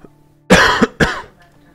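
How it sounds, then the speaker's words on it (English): Two harsh coughs right into a microphone, close and loud, the first longer and rougher, the second quickly following, over a quiet background hum. "Sorry about coughing into the mic."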